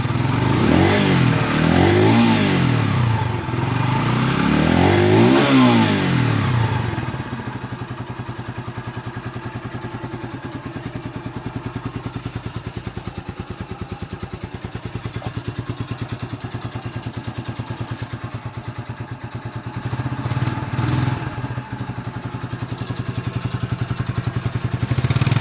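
A cold engine revs in slow sweeps, loud rising and falling roars at the start, then settles into a rough, clattering idle before a few shorter blips, with no voices.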